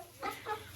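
Two short soft clucks from a hen in a small backyard flock, fairly close but quiet, with no talking.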